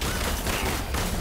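Dense, continuous gunfire bursts fill a short moment of combat in the Marvel's Avengers video game, loud and rapid without a break.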